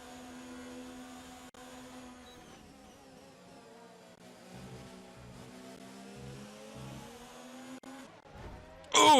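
A Formula 1 car spinning out in the F1 2019 racing game, its engine whine sliding down in pitch with faint tire scrub, ending in a sudden loud burst of noise.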